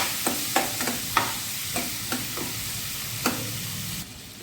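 Gunda being stirred and sautéed in a pan with salt and turmeric: a steady sizzle runs beneath a series of sharp spoon scrapes and clicks spaced irregularly, fairly close, with no voices.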